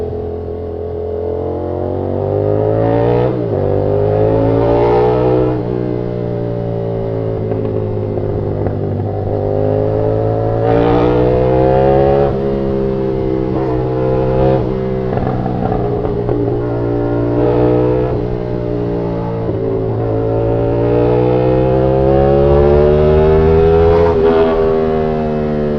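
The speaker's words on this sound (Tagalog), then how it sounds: "yan ni Jom sumaharurot kasi 900cc pa naman" A Kawasaki Z900 900cc inline-four motorcycle roars hard and close, rising through repeated rev sweeps and gear changes with a rich, howling exhaust note that stays loud for the whole stretch.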